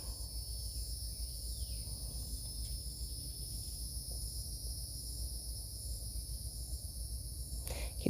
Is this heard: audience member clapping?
no